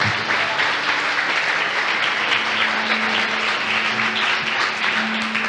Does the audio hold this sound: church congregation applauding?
yes